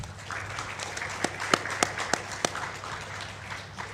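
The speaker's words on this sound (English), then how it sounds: "we give applause to our 2 speakers online" Applause for online speakers at a digital transformation conference: a handful of scattered, fairly faint claps rise briefly over a steady background hum, then trail off.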